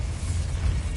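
A Bombarda spell blast in a Harry Potter video game lands as a loud, deep booming rumble that fills the whole short moment without a break.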